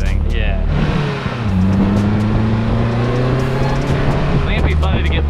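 A loud engine from a real-life Rocket League-style car runs close by, with a low harmonic drone that dips and climbs as it downshifts and revs, continuous throughout with faint voices over it.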